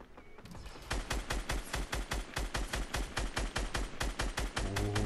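Rapid automatic gunfire in the Fortnite Battle Royale Getaway mode, a loud sustained burst of evenly spaced shots that runs without pause for several seconds.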